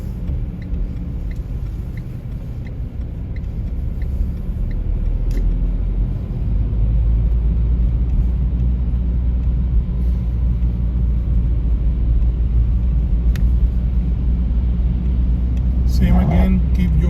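A car drives along Derby Street in Bolton, giving a steady low engine and road rumble throughout, with a brief louder passing swell near the end.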